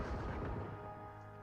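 A tank cannon fires in the WWII film Fury, giving a single heavy boom that rolls off into a low rumble over about a second and a half, moderately loud with no voices.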